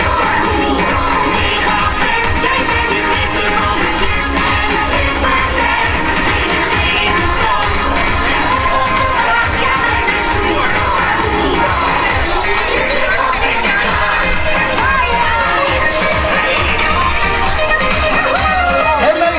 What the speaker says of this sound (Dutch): En dan krijgen jullie van de Zwarte Pieten nu ook een heel groot applaus.